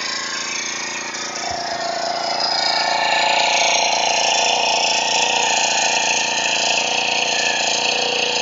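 A new four-stroke grass cutter engine runs steadily and close by, a continuous droning buzz that holds even throughout with no talk over it.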